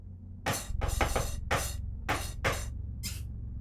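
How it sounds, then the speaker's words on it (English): Several sharp taps ring out on glass in an irregular run of about six hits, fairly close, with a brief bright ring after each. "Tap the glass."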